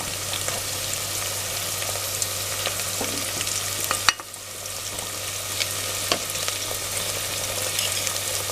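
Onion and green chili with ginger garlic paste fry in a pan for spicy fish gravy, a steady close sizzle with occasional stirring clicks and one sharp knock of a utensil midway, no talking.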